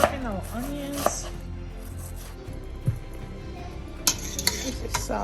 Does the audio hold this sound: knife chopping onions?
yes